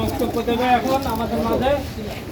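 Pigeons at a pigeon market coo in rounded, repeated warbling calls close by, overlapping with people talking nearby.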